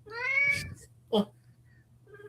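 A house cat gives one clear, drawn-out meow up close, followed by a brief second cry and quiet room hum.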